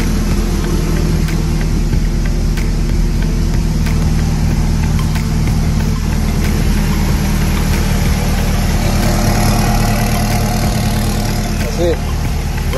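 A K24-swapped Honda engine in a Toyota MR2 runs at a steady idle, with a constant rumbling drone close by and talk over the top throughout.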